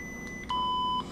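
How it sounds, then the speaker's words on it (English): A single clear electronic beep from a Korbanth Starkiller neopixel lightsaber's volume menu on a Proffieboard, a short steady tone about half a second long, faint and alone. "You'll hear the beeps getting louder."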